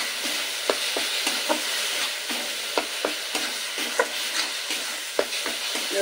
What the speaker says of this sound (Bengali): সমস্ত মশলাটাকে খুব ভালোভাবে কষিয়ে নিতে হবে।